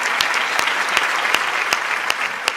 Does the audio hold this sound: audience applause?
yes